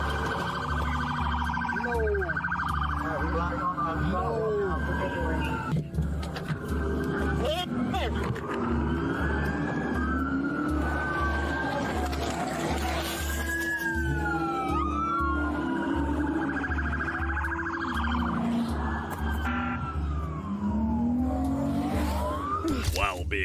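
An ambulance siren wails continuously during a police chase through a residential area, its rising and falling tones sweeping under a dense, loud mix of traffic noise and voices talking throughout.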